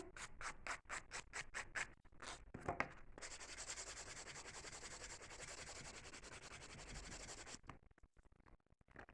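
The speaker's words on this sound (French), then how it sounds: "Je vais limer ça avant de poursuivre une autre étape." A nail file rasps back and forth across a fingernail during a mirror-effect paper nail art job: a few short strokes, then a long continuous close filing, ending abruptly.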